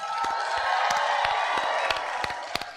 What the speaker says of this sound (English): Please stand and big round of applause to everyone,